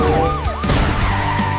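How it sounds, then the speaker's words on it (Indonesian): Wailing siren from a toy ambulance, a short electronic wail sweeping up and down, loud and close, followed by a steadier tone. "Wow, lihat ada ambulan."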